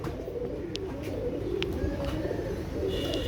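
Pigeons of an original bloodline coo in a low, continuous murmur close by, with a few sharp chirps rising above it and no voices.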